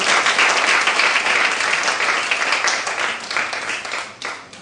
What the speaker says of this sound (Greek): Δώσε τώρα πολύ δυνατό χειροκρότημα.